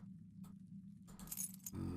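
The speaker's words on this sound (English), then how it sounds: "Can't use these keys on this door." Keys jangle at a locked door in the game Darkness Within: In Pursuit of Loath Nolder, a couple of soft metallic rattles and clinks over a low steady background hum.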